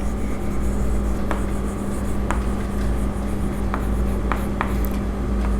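Pen writing an accounting journal entry on paper, soft scratchy strokes with a few faint taps, continuous under a steady low hum.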